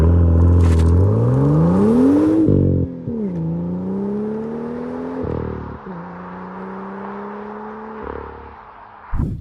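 The N55 straight-six of a BMW M2 revs up loudly while driving, climbing through a gear, shifting with a brief break, then pulling again through further upshifts with a throaty, rising engine note.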